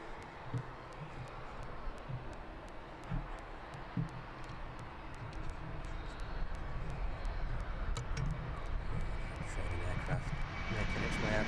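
An aircraft departs East Midlands Airport, its engine roar building steadily from a distant rumble to a louder, broad wash of noise, with faint talk underneath.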